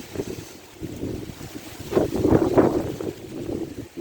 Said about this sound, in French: Wow, le vent.